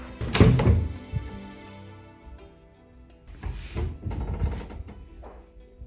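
Wardrobe doors in a room of a newly moved-into house in Argentina being opened and shut: a loud, close wooden thump early on, then softer knocks and rattles over the next few seconds, with no voices.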